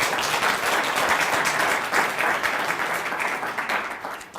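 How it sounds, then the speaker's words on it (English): A meeting audience gives a sustained round of applause, many hands clapping densely and evenly at moderate volume, tapering off slightly toward the end. "I would like us to give a round of applause for the second time."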